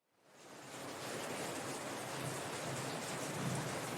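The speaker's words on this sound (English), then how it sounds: "stand in the rain." Heavy rain pours in a dense, steady hiss that swells in from silence, with a low thunder rumble rolling underneath toward the end; no voices.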